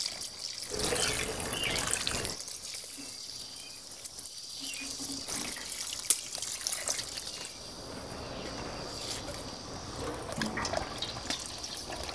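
Water pours from a watering can onto freshly planted summer flowers in a cottage garden window box, a soft steady splashing and trickling that runs close by throughout with no talking.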